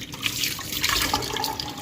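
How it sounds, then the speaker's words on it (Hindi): Food rinsed under a running kitchen tap at home, a steady close splashing and trickling of water into a sink with no talking. "अच्छी तरह से वॉश करना है आपने तब तक जब तक कि इसका जो पानी है वो वाइट कलर का ना निकल आए"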